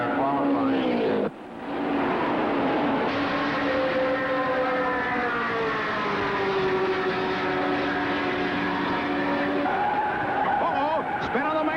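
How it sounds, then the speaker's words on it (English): A race car spins out on the main straightaway at the 1967 Indianapolis 500, its engine droning loudly and tires skidding in a long, sustained rush of sound. "spin on the main straightaway"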